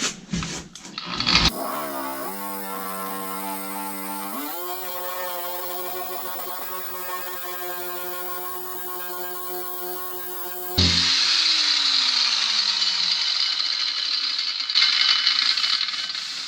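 A Harbor Freight Bauer surface conditioning tool whines as its motor spins up in steps, then shifts to a harsh, hissing abrasive grind as it strips paint, loud and close throughout.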